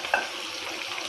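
Onions and tomato frying in half a cup of oil with whole garam masala, a steady close sizzle with a brief sharp spatter at the start and light stirring throughout.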